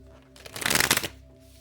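Tarot cards shuffled in one brisk riffling burst lasting under a second, loud and close, with quiet room tone before and after.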